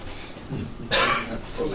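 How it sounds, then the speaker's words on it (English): A single short cough bursts out near the midpoint, preceded and followed by faint murmuring voices in a quiet room. "That was a cough."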